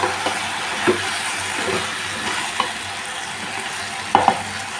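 A spoon stirs a dried fish and drumstick curry seasoned with chili powder and salt in a pan, steady sizzling hiss broken by several sharp scraping knocks.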